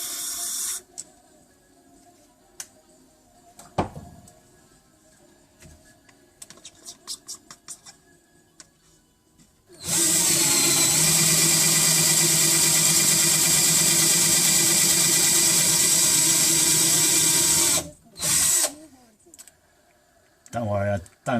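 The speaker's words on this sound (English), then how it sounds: "that should be all the holes I need for my jig for drilling" A power drill bores holes for a drilling jig: after quiet handling and clicks, a loud, steady whine runs for about eight seconds, then a few short bursts follow.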